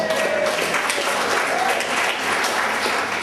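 Audience applause at a panel event, a steady wash of many hands clapping at moderate volume, continuous across the whole stretch.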